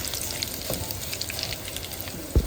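Curry leaves, asafoetida and dry red chillies sizzle steadily in hot oil for an aloo dish, a close, continuous frying hiss with a brief louder clatter at the very end.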